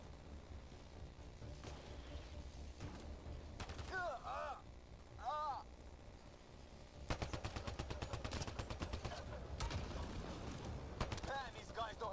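Gunfire in the sci-fi shooter Mass Effect Andromeda, in the Hyperion prologue and the first planetside mission: scattered shots and electronic chirps, then a long stretch of rapid, loud automatic bursts with a voice now and then.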